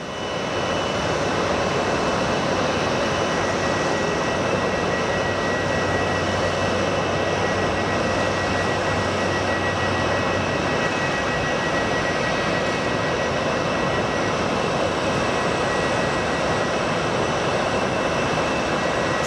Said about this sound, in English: It's a 737 MAX 8.